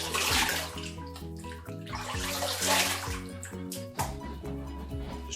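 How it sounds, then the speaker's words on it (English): Water splashes and pours at a sink as a man wets his face between shaving passes, a steady close wash of running and splashing water with brief irregular splashes and no talking. "I'm just going to wet my face again and start on the second pass."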